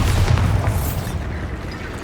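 A Bombarda blast spell goes off in Hogwarts Legacy, a single deep booming explosion right at the start that rumbles and slowly fades over about two seconds.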